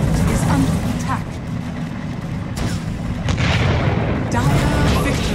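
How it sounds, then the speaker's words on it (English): Dota 2 gameplay with Radiant's ancient under attack: loud, dense battle noise of booming ability impacts, blasts and rumbling effects, with a game announcer's voice speaking over the clash. "Radiant's ancient is under attack."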